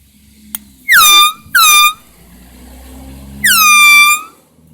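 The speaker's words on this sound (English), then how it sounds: "we have a brand new air horn just opened" Three loud blasts of a car air horn, two short ones close together and a longer one after a pause, preceded by a sharp click.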